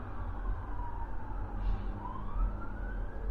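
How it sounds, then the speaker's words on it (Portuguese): Wailing emergency-vehicle siren passing outdoors, its tone sweeping slowly up and down over steady low traffic rumble, moderately loud and continuous with no talking. "Deixa eu passar a sirene que está passando aí"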